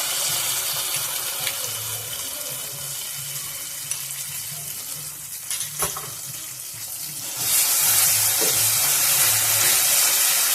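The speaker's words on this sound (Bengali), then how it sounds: "সর্ষে আর পোস্তটা একটু কষবো।" Mustard and poppy seed paste, ground with green chilies, fries in a pan with a steady sizzle and a few scraping stirs; the sizzle swells louder and brighter partway through, close up, with no talking.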